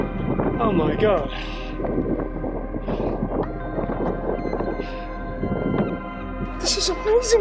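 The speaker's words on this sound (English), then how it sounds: "It's very windy." Strong wind buffets the microphone in a constant low rumble, with breathy gusts and faint sounds drifting over it.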